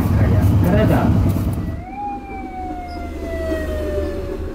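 A rail inspection lorry sounds a long rising then slowly falling horn tone, loud and close, starting midway after a burst of broadband noise aboard a train.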